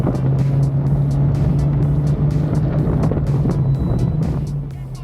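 A loud engine drones steadily at close range, a racing car running hard with a rough, continuous roar and faint repeated ticks on top.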